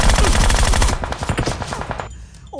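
Rapid automatic gunfire in PUBG Mobile, a loud close burst of fast repeated shots that runs for about two seconds and then cuts off, leaving quieter game ambience.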